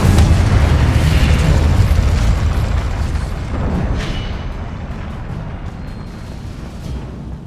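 In the Hogwarts Legacy video game, an Incendio fire spell blasts out as a loud, roaring explosion with a heavy low rumble. It fades slowly over several seconds, with faint crackles mixed into the tail.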